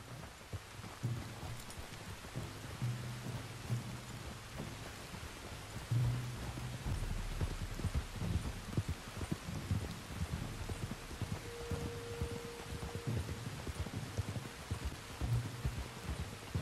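Steady rain hisses across the whole scene in Red Dead Redemption 2, a dense continuous patter at moderate level, with muffled horse hooves clip-clopping underneath and no one speaking.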